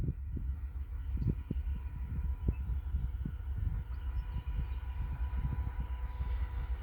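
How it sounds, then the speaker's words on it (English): An eastbound Norfolk Southern priority intermodal freight train approaches near a reservoir, heard as a low steady rumble with rhythmic thumps of wheels on rail joints, moderately distant and without speech. "This is a priority intermodal train."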